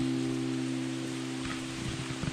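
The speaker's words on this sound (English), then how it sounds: "It's raining. Can you tell?" Steady rain patters on a surface close by on a trail morning, a continuous hiss with a low steady hum running underneath and a few louder drops near the end.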